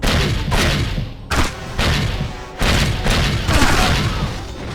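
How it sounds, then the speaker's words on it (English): Rapid bursts of strafing gunfire in the James Bond 007: Agent Under Fire finale, loud and close, coming in several dense volleys separated by brief gaps, with booming impacts mixed through. "Damn strafing."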